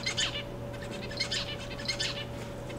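Zebra finch singing, a few short bursts of bright chirpy notes repeating at roughly regular intervals over a steady background hum, fairly faint and close.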